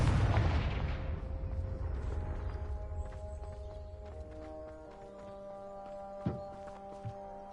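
A Confringo fire-blast spell in Hogwarts Legacy bursts loudly at the start and then rumbles away into a long fading tail, followed by a couple of soft thuds.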